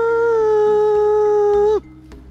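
A man imitates a wolf howl with his voice: one long, loud, sustained note held close to the listener, sliding down and cutting off near the end.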